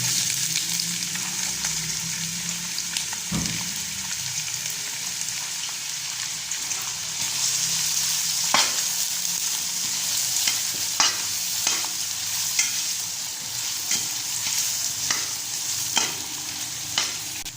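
Onions frying in a pan with cumin seeds, a continuous crackling sizzle with occasional spoon clinks and stirring scrapes, close and even, no talking.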